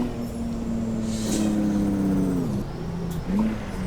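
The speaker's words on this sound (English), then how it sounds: "And then I also need to shift up, Jake brake, and enable the retarder." A heavy truck engine in American Truck Simulator drones steadily, its pitch dropping through upshifts with a deeper engine-brake growl, loud and close with no talk.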